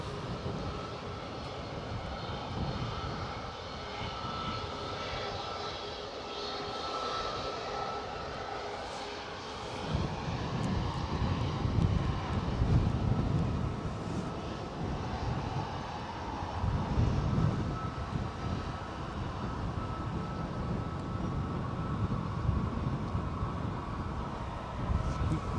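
An EasyJet airliner approaching Edinburgh airport, a steady broad engine roar that swells louder after the first ten seconds and holds, with wind-like rumble and no talking.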